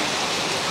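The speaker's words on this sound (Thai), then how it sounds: "เสียงเริ่มไม่ได้ยินแล้วเพราะว่ามีแต่เสียงฝน" Heavy rain pours in a dense, even hiss that stays steady and loud throughout, with no other sounds standing out.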